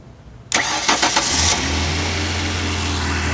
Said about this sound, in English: I'm going to use my relay jumper to go ahead and start the car